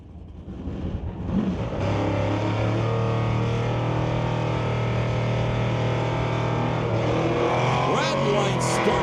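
Drag race cars, among them a 1969 Ford Falcon, launch and roar loudly in a sustained, steady engine drone, with a commentator talking over it.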